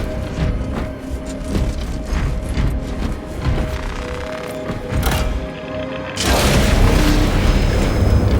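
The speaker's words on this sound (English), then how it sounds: "Small arms fire. It sounds close." Warhammer 40K Space Marine 2 gameplay with a dense rattle of gunfire and thudding booms, continuous and fairly loud, swelling into a heavier burst near the end.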